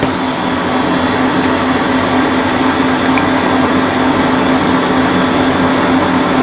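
An electric mixer whips butter with condensed milk, a steady loud motor whine with a constant hum that stays even from start to finish, close and without speech.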